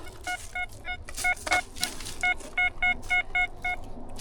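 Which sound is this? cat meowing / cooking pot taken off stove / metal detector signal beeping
metal detector signal beeping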